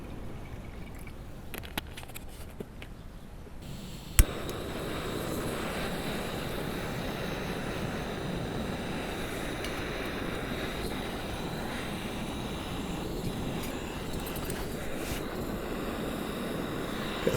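A Soto Windmaster gas stove burner roars steadily while heating 300 millilitres of water for a boil test, a constant hiss that kicks in sharply after a quieter opening few seconds of faint clicks.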